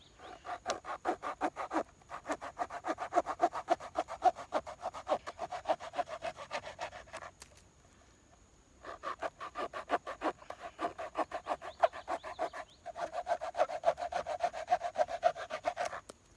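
A Ranger Grip folding saw cuts through dried wax myrtle wood in rapid back-and-forth rasping strokes, close up, in two long bouts separated by short pauses.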